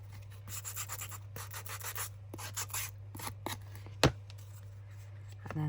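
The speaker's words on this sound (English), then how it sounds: "we're going to do a little bit of" Hand sanding across a junk journal cover, a dry, scratchy rubbing in bursts of short strokes with brief pauses, close and fairly quiet over a steady low hum, with a sharp knock near the end.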